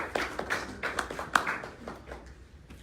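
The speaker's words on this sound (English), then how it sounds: "Please have a round of applause for them." A small audience at a book launch in Washington gives a brief round of applause, sparse and fairly faint, with individual claps standing out as irregular taps.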